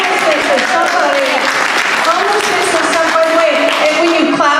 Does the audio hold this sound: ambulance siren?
no